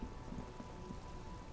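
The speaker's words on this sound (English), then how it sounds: "It's raining again." Rain falls in the video game Disco Elysium as a soft, steady hiss of drops on surfaces, fairly faint and unbroken, with no voices or thunder.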